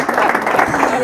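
Audience applause at a Saturday afternoon show, a short dense burst of clapping with crowd noise mixed in, loud and sustained through the moment.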